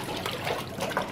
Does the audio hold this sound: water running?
yes